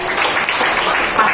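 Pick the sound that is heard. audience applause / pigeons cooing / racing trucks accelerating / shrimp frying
audience applause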